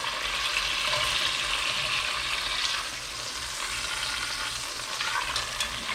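Steak sears in a cast iron Dutch oven, a steady close sizzle and crackle of frying that eases slightly partway through and carries on without any voices.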